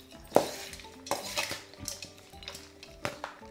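Lemon juice stirred into cooked rice in a pot for sesame pulihora, with a spoon scraping and clinking against the pot in a few separate close strokes.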